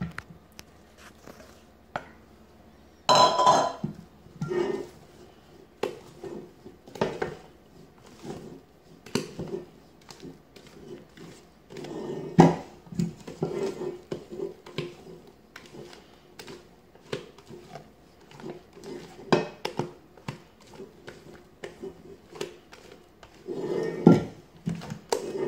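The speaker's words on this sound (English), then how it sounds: "Just going to mix this in by hand. I don't want to deflate my whipping cream by mixing it with a mixer." Whipped cream being folded by hand into a Drumstick dessert, with soft scraping and squishing, clinks of a utensil against the bowl, and a few sharper knocks spaced irregularly through a quiet kitchen.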